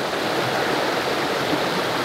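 Running stream water along the Georgia Traverse, a steady, dense rushing wash that stays even and close throughout with no voices.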